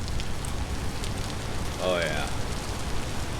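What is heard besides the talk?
rain falling in Vintage Story video game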